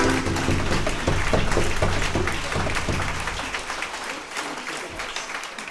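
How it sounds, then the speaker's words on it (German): Audience at a live Swiss Ländler folk music evening in a cellar venue claps in loud, dense applause with scattered individual claps, gradually thinning over several seconds. "Ein weiterer Applaus geht auch an unsere Technik"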